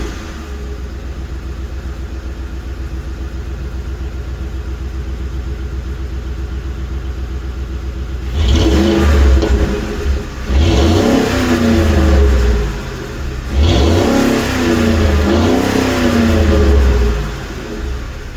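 A 4.6 liter car engine on its stock exhaust fires up from cold, starting about midway with a loud catch and settling into a high, rumbling idle with a couple of revving surges, close to the mic.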